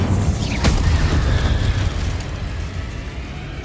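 A fiery Incendio spell cast in Hogwarts Legacy bursts with a sharp crack and a heavy rumbling boom that lingers as a roaring wash of flame and battle noise.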